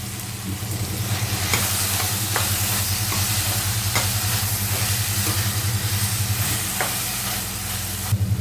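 Onion, bitter gourd and tomato, with salt added, fry in a pan: a loud, continuous sizzle up close with occasional spoon scrapes and a low steady hum running underneath.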